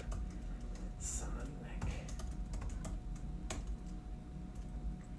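Typing on a computer keyboard: scattered light key taps at an irregular pace, near but soft, under an ongoing voice that talks quietly across the whole stretch.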